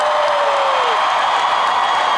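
A Harry Potter celebration crowd at Universal makes a loud, dense, continuous roar of cheering and noise, steady throughout with a brief whoop rising above it.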